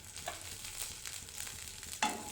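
Garlic and a handful of small shallots frying in oil in a pan for paneer butter masala, a soft continuous sizzle with a spoon stirring, and a sharper scrape or clatter near the end.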